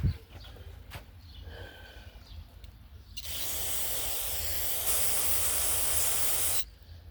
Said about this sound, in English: Spray it with some carburetor cleaner.